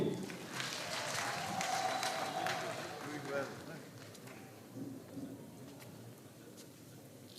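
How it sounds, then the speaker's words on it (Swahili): An audience claps at a decennial celebration of the Mangalore Africa Mission in Kituri, Tanzania. Dense, steady applause fills the first few seconds, then thins and fades under faint background voices and bird calls. "Tupigie makofi."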